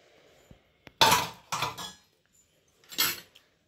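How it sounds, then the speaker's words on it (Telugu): A pressure cooker lid being opened after cooking dal, a few sharp metallic clanks and scrapes in quick succession, separated by short silences, close and fairly loud. "కుక్కర్ మూత ఓపెన్ చేసి చూద్దాం."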